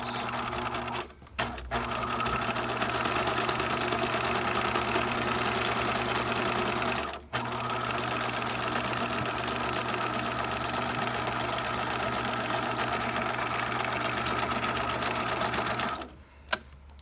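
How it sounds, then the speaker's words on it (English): A sewing machine stitches a fabric seam with a backstitch, a steady close mechanical whir that breaks briefly twice and stops near the end. No voices are heard. "We're gonna sew our seam, making sure the edge of the fabric is the edge of where? The tape. Back stitch."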